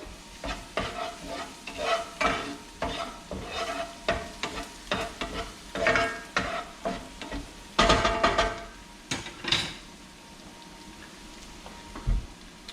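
Garlic and shallot sizzle in olive oil while a utensil stirs them, producing repeated rhythmic scraping strokes over a continuous close frying hiss, with the stirring easing off toward the end.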